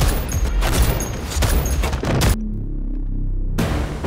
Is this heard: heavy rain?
no